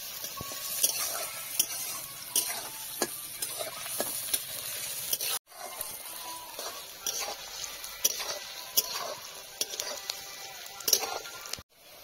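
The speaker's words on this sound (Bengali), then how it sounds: "পেঁয়াজটাকে খুব একটু লাল করে ভেজে নেব।" Chopped onions fry and sizzle in a pan for a Bengali-style sweet-and-sour rohu fish curry, with steady frying under repeated scraping stirs and a few soft clinks of a spoon against the pan, no voices.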